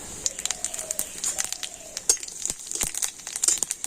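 A dried red chilli and panch phoron five-spice crackle in hot mustard oil with sharp, scattered pops and sizzling spits, close and irregular, over a faint high hiss.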